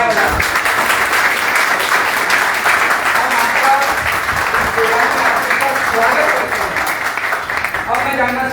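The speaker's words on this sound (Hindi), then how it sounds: "तालियां बजा" Audience clapping to welcome guests at a network marketing seminar, a dense, steady round of applause filling the room throughout, with voices mixed in underneath.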